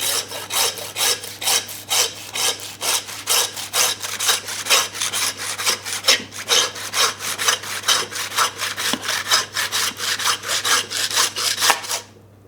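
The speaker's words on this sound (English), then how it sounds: "I'm going to saw straight through, use the length of the saw" A hand saw rasps back and forth through hard beef bone in quick, even strokes, close and loud, with no talking.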